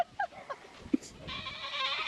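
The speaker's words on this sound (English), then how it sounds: "There's a goat in our camper." A goat bleats several times in short, wavering calls inside a camper, fairly close and moderately loud over faint background noise, with a steadier high hiss in the later part.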